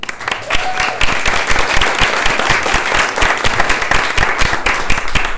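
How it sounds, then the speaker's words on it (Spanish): Audience applause welcoming a physicist named Nuria as she comes up to present a project at an ecological farm, steady dense clapping from many hands, loud and continuous throughout. "Un aplauso."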